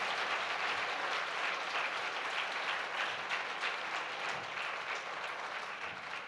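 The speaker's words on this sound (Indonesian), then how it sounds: "Let's give King Jesus a mighty hand clap." A church congregation claps hands together in sustained, dense applause at a special meeting, a steady wash of clapping holding throughout with no voices standing out.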